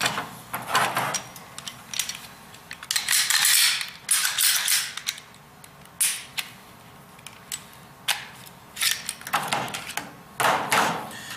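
Glock pistols being disassembled on a bench, giving a series of close, sharp metallic clicks, slide rattles and scraping handling noises in bursts with short pauses between them.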